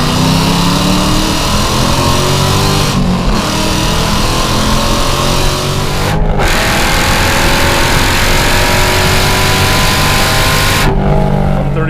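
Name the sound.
Hennessey HPE850 Hellcat accelerating with exhaust dumps open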